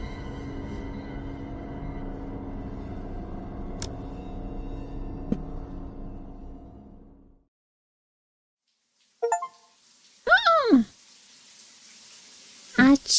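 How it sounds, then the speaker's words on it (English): Hot shower water spraying in the Corpse Factory game, a steady broadband hiss for about seven seconds that then stops, followed by a few brief squeaky sounds. "a pleasant torrent of hot water sprays across my body"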